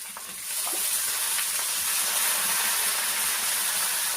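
Chopped eggplant sizzles in a pan with dried fish, a steady broadband frying hiss that swells after a brief quieter start and holds loud and continuous, with occasional faint stirring clicks.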